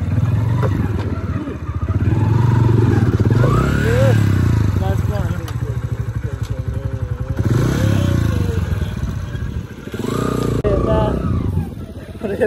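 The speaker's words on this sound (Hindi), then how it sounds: "रेत के अंदर बाइक फंस" A heavy motorbike engine revs and strains continuously while stuck in sand, loud and close with clattering and scraping, people talking over it throughout.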